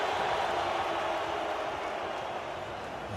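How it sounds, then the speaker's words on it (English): A cricket crowd at an India versus South Africa Test match roars its approval, a broad, sustained wash of distant crowd noise that holds steady throughout. "the crowd roars its approval"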